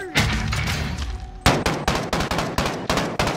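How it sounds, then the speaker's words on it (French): Bursts of gunfire from a tower in Call of Duty: Modern Warfare, loud and close, with a dense fusillade followed by a rapid series of sharp, evenly spaced shots. "They're shooting me from the tower!"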